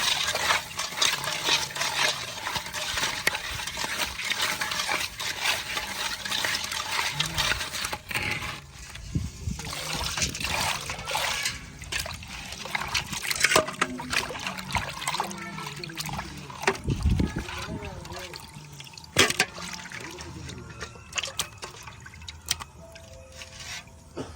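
Fish being washed by hand in water, with irregular splashing, dripping and squishing sounds close by and faint voices in the background.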